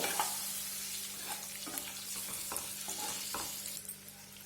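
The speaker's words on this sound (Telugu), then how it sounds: "ఒక 2 నిమిషాల పాటు ఈ ఎగ్స్ని బాగా ఫ్రై చేసుకుందాం ఈ నూనెలో" Boiled eggs sizzling in hot oil in a pan for egg curry, a steady close frying hiss punctuated by repeated scraping knocks as they are stirred.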